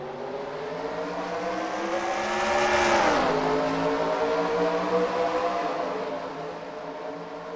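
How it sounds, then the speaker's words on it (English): Race cars at the Sonoma track roar past at a race start, engines accelerating in a swelling pack that peaks and then Doppler-drops as they pass, loud and close. "The cars make their way around, and we are green."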